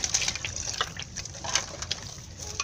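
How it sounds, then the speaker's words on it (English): Water pours into cassava while making fufu, a light splashing, trickling flow with small gushes and drips, close and fairly quiet, with no speech. "I have to add water."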